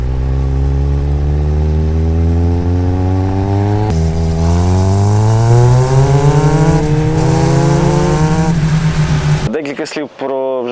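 A motorcycle engine with a half-carbon Leo Vince exhaust revs steadily and climbs in pitch, loud and close, with a deep throaty exhaust tone, then cuts off abruptly near the end.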